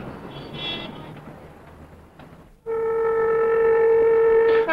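A train rumbles past with a clattering roar, then a loud, steady horn blares close by and holds to the end.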